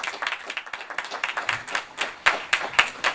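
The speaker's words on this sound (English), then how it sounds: "So can we have a round of applause for our first speaker" An audience at a business presentation on accelerators and scale-ups applauds as the first speaker is welcomed, a steady patter of many hands clapping close and fairly loud throughout.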